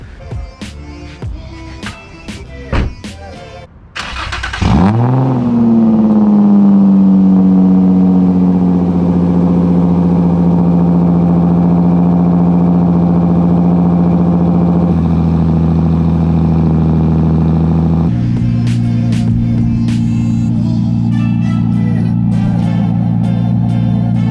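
A Nissan 350Z with a full HKS exhaust cold-starts after sitting all day: a few clicks, then a sharp crank and loud catch, settling into a steady, droning high idle that dips slightly later, close and dominant.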